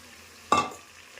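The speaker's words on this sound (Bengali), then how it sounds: "এবার আমি ভালো করে মশলার সাথে কাঁকড়াগুলোকে মিশিয়ে নেব" Fried crabs tumble into spicy masala in a pan with one short burst of stirring and sizzling, close and moderately loud, then fading back to quiet.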